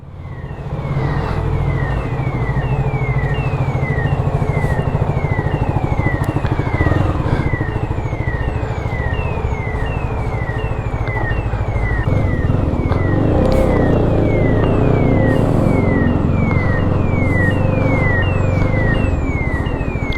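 A 125cc motorcycle engine runs close by, holding a steady idle and then revving in repeated bursts, with a continuous loud mechanical drone.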